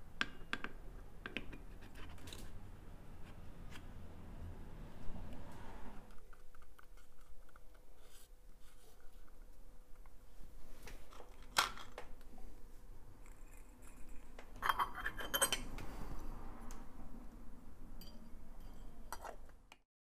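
Faint clicks and light taps of small metal and rubber parts on a café racer's second carburetor membrane being refitted by hand, close and quiet with soft rustling in between.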